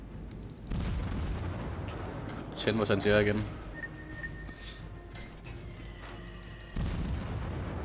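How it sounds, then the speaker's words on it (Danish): Naval gunfire in the video game World of Warships: a heavy, booming salvo and a rumble of shots under a voice, with a second loud blast near the end. "Mange skud. Masser af skud."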